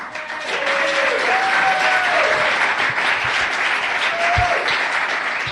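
A studio audience applauds steadily, the clapping building quickly and holding as a full, even wash, with a faint whistle-like tone gliding above it.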